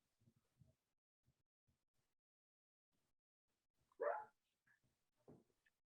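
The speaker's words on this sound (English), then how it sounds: "Sorry, my dog." A dog barks in the background during a remote committee meeting: one louder bark followed by a couple of fainter yips, distant and sparse against near silence.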